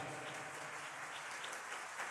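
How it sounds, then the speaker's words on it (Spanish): A church congregation claps in a steady, faint patter of applause that carries on without a break. "Le damos un aplauso a todos en el nombre del Señor."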